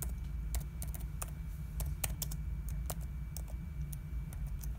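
Keystrokes on a computer keyboard as someone types out a name, a series of separate sharp clicks in an uneven rhythm, some of them quick bursts, close by over a low steady hum.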